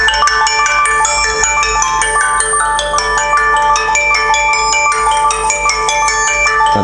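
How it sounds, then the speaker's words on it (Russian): An LG Optimus L5 II Dual E455 phone plays a bright electronic ringtone melody of quick repeating notes, loud and close, continuing without pause and cut off at the end. "Рингтон с виброзвонком, чтобы была вибрация."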